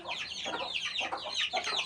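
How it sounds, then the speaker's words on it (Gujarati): Farm roosters, including black ones, cluck in quick, close, fairly quiet bursts that repeat several times in under two seconds. "આ હે કુકડા આપણા કુકડા હે"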